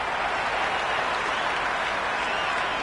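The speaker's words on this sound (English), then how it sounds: "The crowd are loving every minute of this match." Crowd in a Sydney Thunder versus Hobart Hurricanes cricket video game on PlayStation, a dense steady roar of applause and cheering, loud and unbroken.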